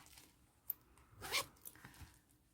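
A zipper on a crocheted pouch's inner pocket is pulled once in a short, quiet rasping zip, with faint handling clicks before and after it.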